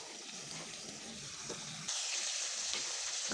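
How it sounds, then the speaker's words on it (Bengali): Potatoes and fish frying in a pan in a village kitchen, a steady hissing sizzle that swells louder partway through, close and continuous with no talking. "তো এদিকে ভাজাভাজি হচ্ছে"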